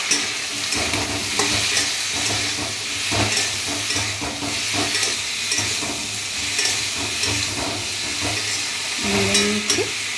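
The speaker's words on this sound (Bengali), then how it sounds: "এবার একটু নেড়ে চেড়ে নেবো" Spices stirred with salt and turmeric in a hot pan, a loud continuous sizzle with repeated scraping strokes of a spoon, close up and with no voices.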